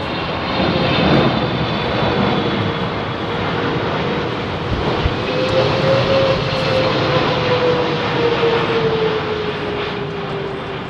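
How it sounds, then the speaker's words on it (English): A Singapore Airlines Boeing 777X jet airliner passes over Heathrow on a windy day. It makes a loud, sustained engine roar with a slowly gliding whine under rushing wind noise, steady for the whole stretch. "Boeing 777X on its way to Singapore."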